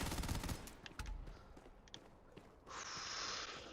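Gunfire in the space game Starfield, a rapid burst of shots at the start followed by scattered single shots and a rising whine, moderately faint against background game sound.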